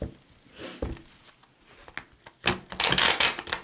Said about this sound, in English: Let me just shuffle a couple more times